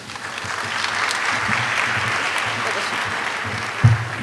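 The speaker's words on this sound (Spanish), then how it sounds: "Le damos un aplauso," An audience at an annual scientific conference on metabolic syndrome applauds a speaker, a dense, even wash of clapping from many hands sustained for several seconds, with a brief thump near the end.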